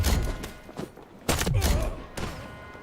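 Gunfire in the Delta Force shooter game, several sharp, loud shots with booming low thuds and echoing tails, spaced unevenly across a few seconds.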